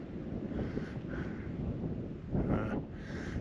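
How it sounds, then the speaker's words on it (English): Wind gusts across a mountainside in the Rhinogs, buffeting and rumbling steadily with a couple of stronger swells, moderately loud and continuous with no voices. "wind's getting up a little bit now as well"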